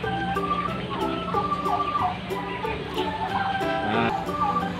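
Native chickens cluck and call on a farm, several birds at once in a busy, continuous chorus of overlapping squawks at close to medium distance.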